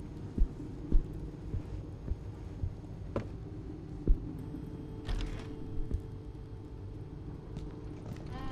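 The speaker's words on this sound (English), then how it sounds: "Hear your heartbeat." Heartbeat in the horror video game Song of Horror, a series of soft, low, evenly spaced thumps pulsing over a dark ambient hum, fairly faint and steady throughout with no one talking.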